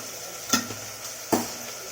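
Chilli powder and spices are stirred into a sizzling pan while cooking bisibelabath, two sharp spoon scrapes against the pan over a continuous close frying hiss.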